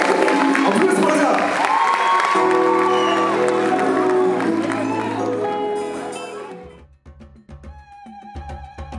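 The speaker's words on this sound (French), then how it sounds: "applaudissez pour vous-même" Festival audience applauding and cheering, loud and sustained at first, then fading as the crowd noise dies away and speech takes over.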